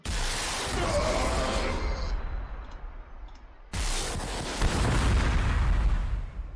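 An Ork Deathcopter opens fire in Warhammer 40,000: Sanctus Reach, a loud, dense roaring barrage that thins out, cuts off abruptly, then slams back in at full strength, with no voices.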